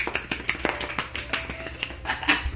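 A few people giving a soft, sparse golf clap, quick light hand taps scattered over a couple of seconds at close range, with no voices over them.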